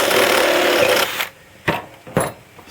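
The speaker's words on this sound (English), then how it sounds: "And use a step drill." A step drill grinds steadily through a steel washer for about a second, then gives two short, sharp bursts of cutting with quiet pauses between.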